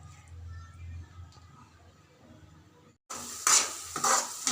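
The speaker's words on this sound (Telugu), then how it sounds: "ఉల్లిపాయ పచ్చి వాసన పోయేంత వరకు మీడియం ఫ్లేమ్లో పెట్టి వేయించుకోండి" Onions frying over a medium flame and being stirred in a pan for a prawn fry: a quiet stretch, then a sudden loud burst of sizzling and scraping for the last second and a half.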